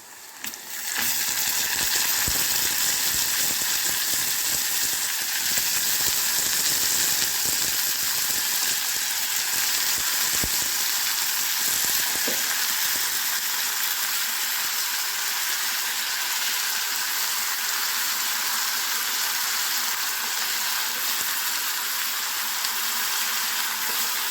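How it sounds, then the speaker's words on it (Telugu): Salted brinjal pieces fry with onions in a pan for an eggplant tomato curry, giving a loud, steady, close hiss of oil that runs unbroken, with a few faint clicks near the start. "ఇప్పుడు మనం సాల్ట్లో తడిగి పెట్టుకున్న వంకాయలు దీంట్లో వేయాలి"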